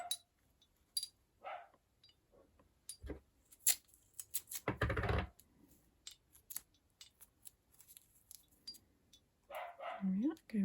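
A dog barks in short bursts in a room during a wind chime craft session, with one loud burst near the middle and several fainter yips, mixed with scissor snips and clinks and a person talking.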